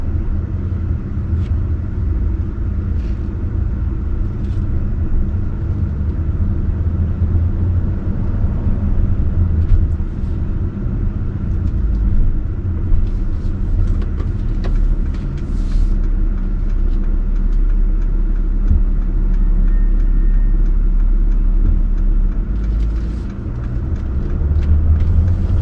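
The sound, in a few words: Mercedes GLE350d SUV accelerating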